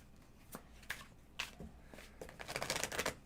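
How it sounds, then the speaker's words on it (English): Tarot cards are shuffled by hand during a live reading: soft, faint papery riffles and taps that come in scattered bursts and then build into a denser flurry at the end. "I'm getting tired of shuffling cards."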